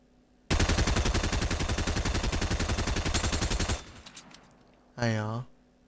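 Rapid SMG gunfire from Fortnite Chapter 1 Season 8, a loud continuous automatic burst of about three seconds that trails off into scattered echoes, followed by a short rising synthetic game effect.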